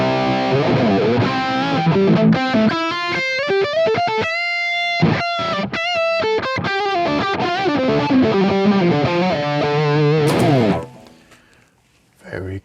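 A dark, heavily distorted electric guitar plays a riff through a Mesa Boogie JP-2C amp capture with no delay, loud and upfront with chords and single notes, before ringing out to near silence.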